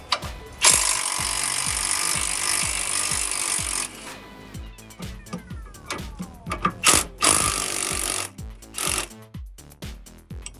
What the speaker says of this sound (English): these rear sway bar links here, 18 millimeter socket and wrench